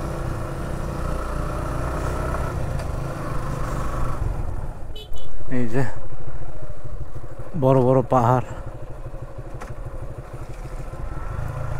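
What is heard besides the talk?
motorcycle riding on a hill road in the rain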